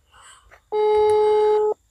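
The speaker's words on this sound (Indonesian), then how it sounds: "Tadi saya telepon Mas Yanto." A telephone busy signal during a phone call sounds as one loud, steady electronic tone lasting about a second, with faint talk murmuring before it.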